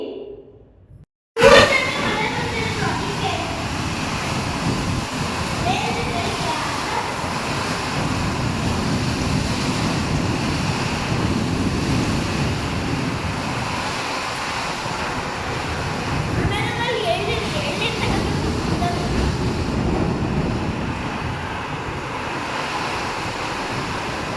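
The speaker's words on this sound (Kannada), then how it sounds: "ಇವತ್ತಿನ ವರ್ಷದ ಮೊದಲನೇ ಮಳೆ ಯಾವ ರೀತಿ ಬಂದಿದೆ ನಮ್ಮೂರಲ್ಲಿ ಅಂತ ತೋರಿಸ್ತೀನಿ" Heavy first monsoon rain of the year falls steadily on a village, a loud, dense, continuous wash of noise that starts abruptly after a brief quiet moment and holds unbroken throughout.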